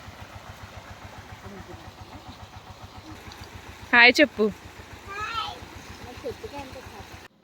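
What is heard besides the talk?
water pump motor running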